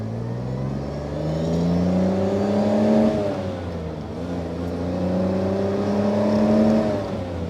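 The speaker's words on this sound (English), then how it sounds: "Let's just take it through the gears again." An Austin Healey 3000 with a big engine accelerates through the gears, its loud, close drone rising in pitch, dipping briefly at a gear change, then climbing again.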